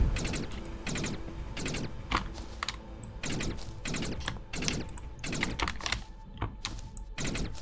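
Rapid keyboard typing during keyboard-controlled video game play, loud and close, with dense clusters of clacking keystrokes arriving in irregular bursts for the whole stretch, no voices.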